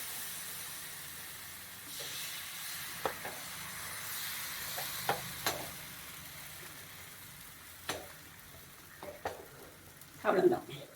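Neer dosa batter cooking on a hot pan, a faint steady hiss and sizzle broken by scattered light clicks and scrapes of a utensil, with a louder scrape near the end, close and quiet.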